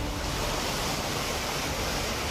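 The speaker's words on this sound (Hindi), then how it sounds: "तो पानी बहुत ही तेज आ रहा है" Floodwater rushes fast through a street near Delhi Gate in Ajmer after heavy rain, a loud continuous roaring wash that stays dense and unbroken throughout.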